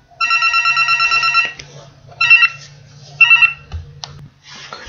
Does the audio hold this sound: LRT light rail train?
no